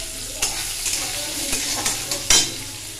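Garlic frying in a pan for a leafy greens dish, a continuous close sizzle with repeated scraping stirs and a spoon clink, no voices.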